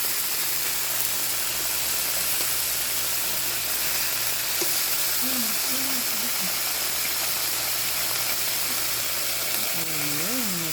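Chicken steak frying in a pan gives a steady, even sizzle and hiss that fills the whole stretch, with a few faint chirping tones rising near the end.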